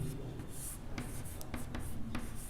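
A teacher writing on a classroom board: a short run of scratchy, squeaky marker or chalk strokes, close and moderately loud, with no speech.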